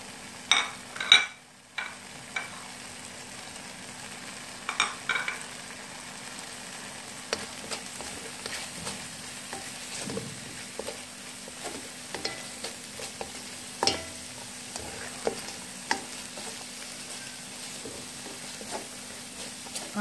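Tomatoes and dry spices sizzle steadily in a pan on low heat, with soft clinks and scrapes of a spoon stirring at irregular intervals, close and fairly quiet, no talking.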